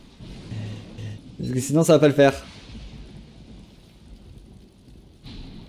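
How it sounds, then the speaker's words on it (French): Thunder rumbles in a stormy island world of Don't Starve Shipwrecked, a loud crackling burst in the middle, fading afterward, with someone talking over the start. "Et là, il y a des éclairs, donc on va vite rentrer à la maison."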